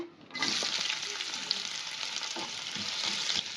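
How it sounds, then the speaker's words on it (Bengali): Finely chopped onion hits hot white oil for a Kolkata street-style egg roll filling, a loud, continuous close-up sizzle with faint scraping underneath. "পেঁয়াজটা দিয়ে দিয়েছি, পেঁয়াজটা এবার একটু ভাজা ভাজা হবে।"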